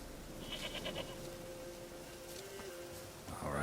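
A goat in The Witcher 3 video game gives a brief, moderately faint bleat over steady outdoor game ambience, with no talking.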